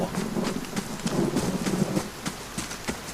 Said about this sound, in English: If you like rain, there's more rain going on.